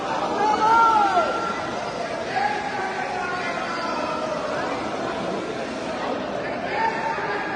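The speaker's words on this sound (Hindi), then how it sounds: "आप देखिए एयरपोर्ट पर ही कितनी भीड़ है।" A dense crowd packed into Jolly Grant airport in Dehradun fills the space with continuous overlapping chatter and babble, a steady hubbub of many voices near and far with a few louder calls rising out of the mass.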